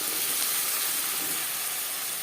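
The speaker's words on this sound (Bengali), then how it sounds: "পেঁয়াজ ভেজে নেওয়ার পর দিয়ে দেবো মশলার পেস্ট" Spice paste hitting frying onions in a pan for Bengali aar fish curry, a loud continuous hiss and sizzle close up with no talking.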